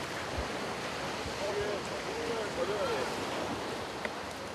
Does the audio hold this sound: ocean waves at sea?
yes